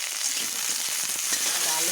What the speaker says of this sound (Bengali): এটা একটু ভেজে নেব ভালো করে।